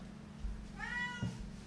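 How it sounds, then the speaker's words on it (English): A single short, quiet cat meow rising and falling near the middle, heard indoors against low background hum. "My cat's meowing."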